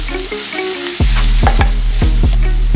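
Onions and garlic with a single bay leaf sizzle loudly in a pan for tomato sauce, a steady fry broken by several sharp stirring scrapes and clinks in a regular rhythm, close and with no voices.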